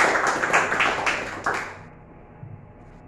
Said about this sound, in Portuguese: Uma oferta de aplauso ao Senhor.